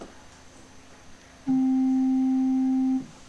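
A pure, steady sine-wave tone switches on abruptly, holds loud and unwavering for about a second and a half, then stops, with quiet room hiss around it.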